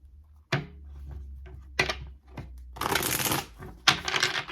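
Tarot cards shuffled by hand, crisp riffling bursts and soft slaps in a few separate passes, close and clear in a quiet room with no voices.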